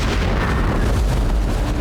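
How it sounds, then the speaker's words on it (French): A powerful, deafening explosion in a residential area sounds as a loud, sustained, booming roar that fills the whole moment without easing, with no voices over it. "L'explosion est puissante et assourdissante."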